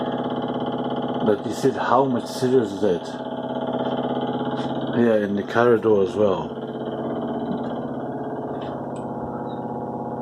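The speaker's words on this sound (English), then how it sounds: "This is the noise of the washing machine, the vibrating of the washing machine." A washing machine in the flat above vibrates during its spin cycle, a steady droning hum running under the whole recording while people talk nearby.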